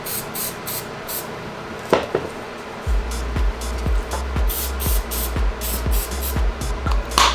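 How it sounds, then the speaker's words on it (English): Close, repeated hisses of a spray bottle misting leather conditioner onto the leather panels of an Off-White Air Jordan 1 sneaker, each short burst separated by brief pauses, over a low background rumble. "I'm gonna spray the rest of the shoe on the leather parts to condition the leather as well."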